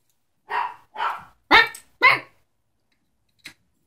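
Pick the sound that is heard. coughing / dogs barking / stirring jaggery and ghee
dogs barking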